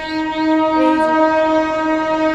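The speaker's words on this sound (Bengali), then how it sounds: "ট্রেন যাচ্ছে, এই যে ট্রেন যাচ্ছে" A train passes close by near Khirai station in rural West Bengal flower-growing country, its steady loud rumble holding for the whole stretch, laced with strong sustained horn-like tones and brief higher squeals.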